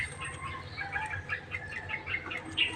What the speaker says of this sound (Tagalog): Ingay-ingay kasi ng ibon dito.